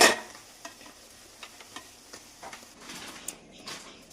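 Paneer cubes fry lightly in a pan, giving a soft, steady sizzle broken by faint clicks and scrapes of stirring, quiet and alone.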